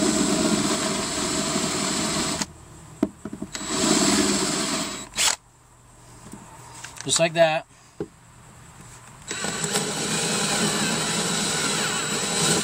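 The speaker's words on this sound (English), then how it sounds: "this is some scary shit drilling into a new boat" A power drill whirs steadily in long bursts, drilling into a new boat hull for a ventilation install, pausing briefly in the middle with a few clicks, while someone talks nearby.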